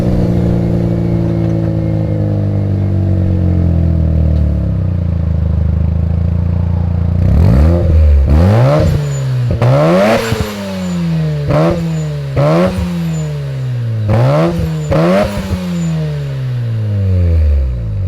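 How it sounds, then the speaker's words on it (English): A Mazda RX7 with an HKS carbon fiber muffler and titanium-tip exhaust idles with a slowly falling drone, then is revved hard several times in sharp, rising bursts that drop back between blips, loud and close. "And last but not least, the HKS carbon fiber muffler,"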